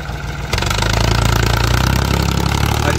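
A 2006 Powertrac 445 tractor pulling an 18-disc harrow chugs loudly and close, its diesel engine jumping from a quieter idle into a heavy, steady rhythmic thrum after half a second and holding under load.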